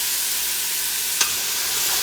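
Onion and ginger fry in a pan for a creamy squash tomato lentil soup, giving a steady, close hiss of sizzling with one brief stir clink partway through.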